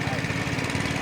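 Long-tail boat engine on a river near Vang Vieng, Laos, a loud, close, steady droning putter with a fast regular chug throughout.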